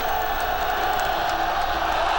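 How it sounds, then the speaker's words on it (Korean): Baseball crowd in a packed stadium cheering for a comeback in the bottom of the ninth between Ssangbangwool Raiders and Samsung Lions in Jeonju, a dense continuous roar of voices with whoops, loud and sustained throughout. "역전을 열망하는 관중들은 다시 열심히 응원하기 시작했습니다"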